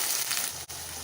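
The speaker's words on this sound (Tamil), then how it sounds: "இது கூட குழம்புக்கு தேவையான அளவு தண்ணி சேர்த்துக்கலாம்." Water poured into a simmering Kongu-style tomato curry in a pan, a steady broadband hiss and sizzle throughout, close and fairly loud, with a brief dip near the end and no talk.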